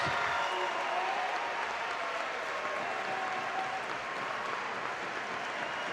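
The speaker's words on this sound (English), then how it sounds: "A big round of applause for these outstanding student athletes." Crowd applause for high school student athletes at a Centerville vs Fairmont varsity game, steady dense clapping that fills the whole stretch at an even level, with no speech.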